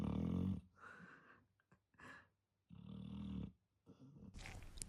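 A dog snoring at night, slow rasping breaths in and out repeating in a few cycles, close and fairly quiet.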